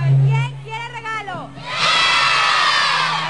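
A crowd of children at a festival shouts loudly all at once, a sustained burst of high-pitched yelling and cheering that follows a brief stretch of an adult voice over a low hum.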